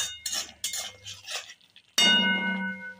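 Shol fish being stirred with turmeric powder and salt in a pan, giving light scraping and clinking of a utensil that becomes a steady sizzling, close and clear with no talking.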